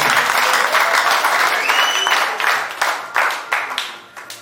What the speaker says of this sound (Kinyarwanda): twakomera Imana amashyi cyane.